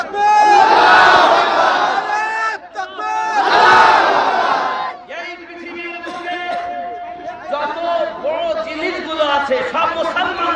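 A large crowd at an Islamic sermon gathering chants takbir, roaring Allahu Akbar together in two long, loud unison shouts, then trails off into more scattered, sustained voices.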